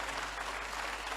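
An audience at a motivational event applauds the organizers, a steady, even wash of many hands clapping at once, continuous and fairly distant for the whole short stretch, with a low steady hum beneath.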